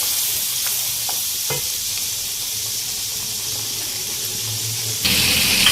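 Chicken masala mixture sizzles steadily in a hot pan while being stirred, with a constant frying hiss and occasional scraping clicks that swell louder near the end.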